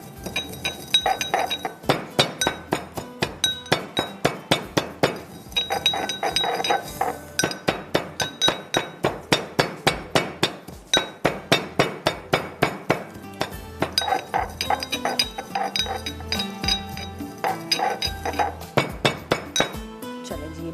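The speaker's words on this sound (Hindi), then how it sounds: "तो इसको मैं मोटा मोटा कूट लेती हूँ और ये भी हम इसमें डाल देंगे" Pickling spices being coarsely pounded, a fast run of close, bright, metallic-ringing strikes in steady rhythmic bursts with brief pauses between, no talk.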